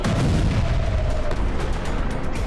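A ballistic missile strike explosion in Tel Aviv comes through as a loud, rumbling boom that rolls on for a couple of seconds without any speech.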